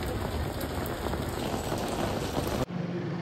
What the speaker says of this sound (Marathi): हे बघा पाऊस चालू झाला आहे